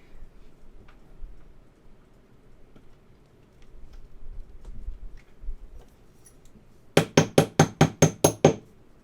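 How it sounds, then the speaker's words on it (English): Quiet rustling gives way to a quick series of about eight sharp, hard knocks, a glass bottle used as a hammer in a steady hammering rhythm, close by. "I don't recommend using a glass bottle as a hammer"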